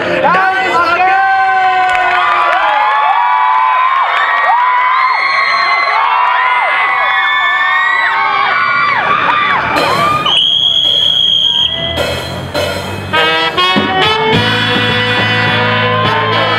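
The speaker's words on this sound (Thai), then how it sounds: "ขอเสียงปรบมือดังให้กับการแสดงโชว์สีชมพู" A loud crowd cheers, whoops and shouts at a school cheerleading show for the pink team, with a sustained roar of voices that shifts partway through into music and continued crowd noise.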